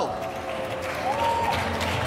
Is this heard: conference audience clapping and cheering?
yes